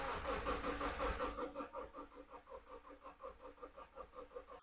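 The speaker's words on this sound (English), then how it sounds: "it sounds good cranking over, which is very good" A Subaru engine with a previous rod knock, rebuilt and cranking over on the starter, a rapid rhythmic churning pulse that starts loud and settles into even, steady beats, heard up close without speech.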